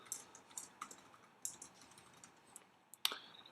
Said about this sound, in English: like typing in a title